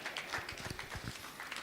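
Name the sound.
audience applause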